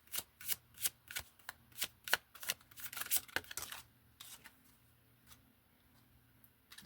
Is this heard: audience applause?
no